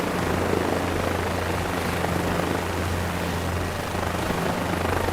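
Helicopter hovering in Microsoft Flight Simulator 2024, a steady loud rotor and turbine drone with low thumping hum, unbroken from start to finish.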